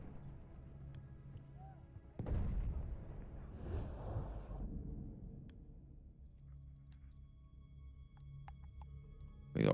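Battlefield 1 combat with a large explosion rumbling up and fading over several seconds, ticking and faint gunfire around it, a sharp close burst at the end, heard at moderate distance.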